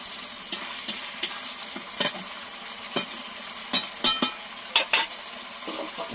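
A pan of fish curry with potato and eggplant stirred with a utensil, sharp scrapes and knocks at irregular intervals over a soft sizzle, close and without speech.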